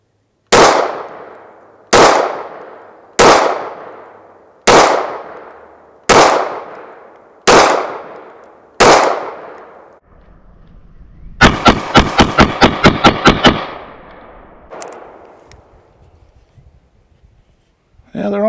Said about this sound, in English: The muzzle rose, but you expect that when you're mag dumping